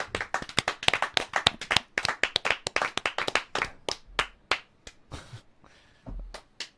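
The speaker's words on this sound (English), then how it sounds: "let's clap it up for Bob's Flavors" A small group claps for a guest named Bob's Flavors, with brisk, uneven rounds of sharp claps from a few people nearby that thin out toward the end, ending in a couple of scattered slaps.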